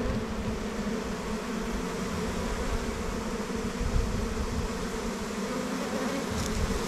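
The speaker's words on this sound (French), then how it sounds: "Je vois qu'il y a un bourdon, un faux bourdon, pardon." Dense, steady buzzing of a honeybee swarm with drone bees among the workers, a continuous close hum filling the air without pause and no voices.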